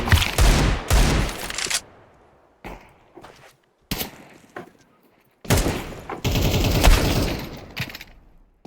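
Rapid automatic gunfire from a Counter-Strike tournament match, in two loud sustained bursts with a few sharp isolated shots and thuds between them, close and dominant with no talking.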